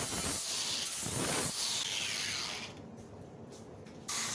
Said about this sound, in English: we're coming back with the next step, which is a flap wheel